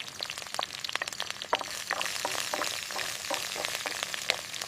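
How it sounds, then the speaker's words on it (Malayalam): Chopped onion, ginger and garlic frying in hot oil in a pan for a meat curry, a dense, even crackle and sizzle with tiny pops throughout, close and steady, with no talking. "വെളുത്തുള്ളി ചേർത്ത് നന്നായി വറക്കാം."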